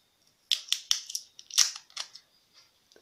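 Scissors cutting packing tape, a run of sharp crisp snips and crackles in quick succession, close and fairly loud, then tapering off.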